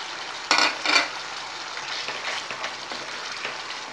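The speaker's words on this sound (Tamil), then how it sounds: "நல்லா கொஞ்சம் நேரம் கிண்டுங்க" Thickening tomato halwa with cashews and raisins is stirred in a pan, with two quick scraping strokes near the start and then a soft, continuous bubbling sizzle.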